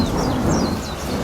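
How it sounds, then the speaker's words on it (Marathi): Thunderstorm effect in a night storm scene near a village: a loud, close rolling rumble of thunder with steady rain hiss over about a second, no voices. "विजा कडाडल्या होत्या"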